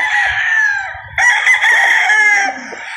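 A golden boy gamefowl rooster crows loudly and close at a game farm, one long rising-and-falling crow with other fowl clucking faintly beneath.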